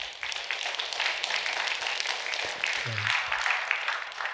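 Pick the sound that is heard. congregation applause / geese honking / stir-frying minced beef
congregation applause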